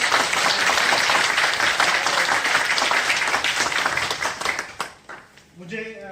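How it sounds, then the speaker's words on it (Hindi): An audience seated in a hall gives dense, steady applause for about five seconds before it dies away, and a voice then starts speaking over the quiet room. "मैं सबका वेलकम करना चाहूंगा जोरदार तालियों के साथ में।"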